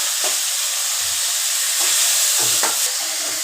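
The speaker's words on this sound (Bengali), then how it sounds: "দেখুন আমরা জল দিয়ে দিচ্ছি।" Water poured into a hot pan of fried chilies sets off a loud, dense hissing sizzle with steam, steady throughout and punctuated by a few low scraping stirs.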